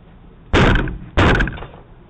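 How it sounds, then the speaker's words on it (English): A man kicks at a house's front door at night in Albuquerque, New Mexico, trying to break it down: two heavy, loud booming thuds about half a second apart, each with a rattling decay, close to the doorbell camera. "This guy tries to kick someone's door down"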